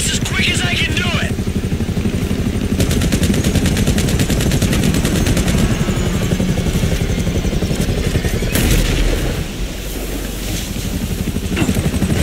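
Sustained rapid gunfire from shooters in the video game GTA V, loud and near, rattling in long automatic bursts with a few heavy single shots, over a rumbling vehicle engine.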